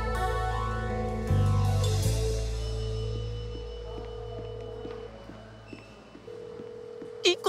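Telephone ringing on an unanswered call: repeated electronic tone bursts recur at a steady rhythm under a low background hum, moderately loud and with no voices.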